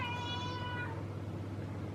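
A pet cat lets out one brief meow at the start, close and soft, followed by a quiet steady indoor hum.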